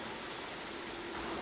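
Bug spray hisses in Escape from Bug Island as a steady, even, breathy spray, faint and continuous throughout without any break.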